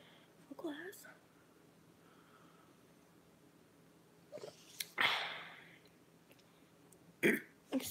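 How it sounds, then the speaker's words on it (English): A person burps softly a few times in a quiet room at night, short low bursts separated by breathy sounds and hushed noises. "Excuse me, I burp a lot."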